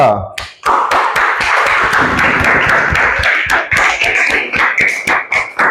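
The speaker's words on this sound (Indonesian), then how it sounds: "Kita beri aplaus dulu untuk kelompok 2." A classroom of students claps for a presenting group, a dense burst of many hands that thins into scattered, uneven claps toward the end, with a voice briefly underneath.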